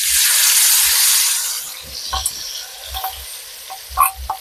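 Prepared gravy tipped into a hot pan of fragrant garam masala for a paneer dalna, sizzling loudly at first then settling into a quieter fry with scattered stirring clatter and scrapes.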